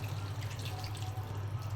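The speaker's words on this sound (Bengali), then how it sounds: "এখন পানি দিয়ে দিচ্ছি," Water poured into a pan of fish curry with tomato and spices, making a steady, continuous trickling splash throughout, with no talking.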